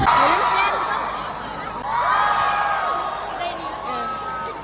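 A large crowd of university students at a campus orientation event shouting and cheering loudly in sustained waves, with overlapping voices throughout.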